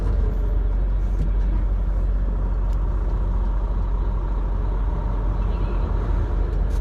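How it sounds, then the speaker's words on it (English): A Mack truck rumbles past on the road, a steady low drone of engine and tire noise heard from inside another truck's cab, continuous and moderately loud with no talking. "I'll let this Mack truck go"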